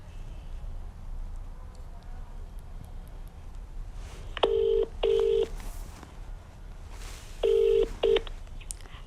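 Telephone keypad tones beep in two short pairs while dialing a phone-in call, clear tonal chirps over a faint background hum.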